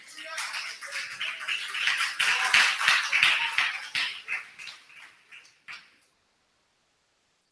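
A church congregation applauding in praise, a dense wash of clapping hands, fairly near and lively, that thins out into scattered claps and stops, with voices mixed in.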